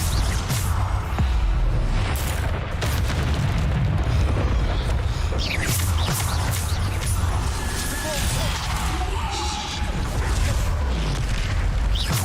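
Bombarda blasting spells from the Hogwarts Legacy video game burst repeatedly in a dense, loud stream of booms and crackling debris, overlapping with game effects and chanted spell names throughout a chaotic magical duel.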